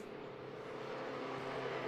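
Modified Ford race cars run up through Deer Leap at Oulton Park, a distant, steady engine drone with a faint building roar and no clear talk.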